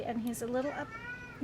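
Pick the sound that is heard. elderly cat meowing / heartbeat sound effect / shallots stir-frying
elderly cat meowing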